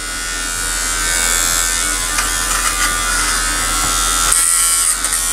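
Electric hair clipper from a clipper shaver set cutting hair at the back of the head, a steady close buzzing drone that runs the whole time with small shifts in pitch and no talking.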